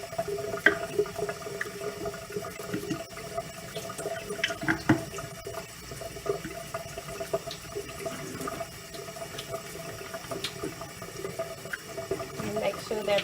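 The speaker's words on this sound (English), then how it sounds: "We then scrub them individually with cool running water using a soft bristle brush." Cool tap water runs steadily while small items are scrubbed one by one with a soft bristle brush into grooves and joints, making a continuous close splashing wash with faint intermittent scrubbing.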